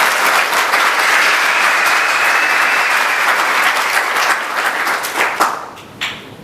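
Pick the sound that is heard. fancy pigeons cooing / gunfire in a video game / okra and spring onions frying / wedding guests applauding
wedding guests applauding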